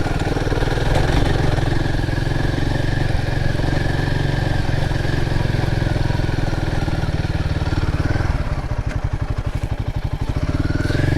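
A motorcycle rides down a green lane, its engine a steady loud drone close by throughout, with a rougher, lower throb toward the end.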